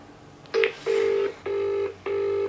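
A phone call to a mother rings out through the handset: a short dial blip, then three steady repeated ring tones with brief gaps, clear and close with no voices.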